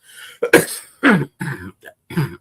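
Several harsh, close coughs in a loose series, with short gaps between bursts and some throat-clearing texture.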